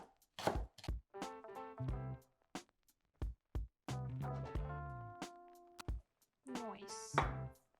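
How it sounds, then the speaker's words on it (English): A knife cuts rhubarb stalks on a board in crisp, separate chops, some quick runs of strokes with pauses between, alongside intermittent voice-like tonal sounds. "And now we're going to cut the rhubarb."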